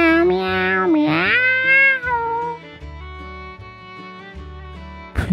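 A voice imitates a cat, drawing out a few sing-song meows, loud and close, with a soft gentle melody underneath.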